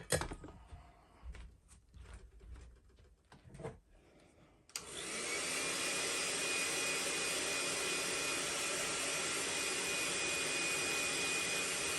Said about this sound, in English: So I'm gonna heat set this real quick.